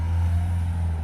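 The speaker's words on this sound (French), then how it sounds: "Désolée pour le bruit des voitures." Steady low rumble of cars and trucks passing on a nearby road, a continuous engine drone with no break.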